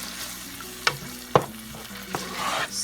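Onions and tomatoes with a little spice are stirred in a frying pan, a steady close sizzle under a few sharp scrapes and knocks of the spoon against the pan.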